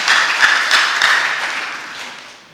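A church congregation bursts into applause after a preacher's sermon, a short burst of many hands clapping that fades out over a couple of seconds.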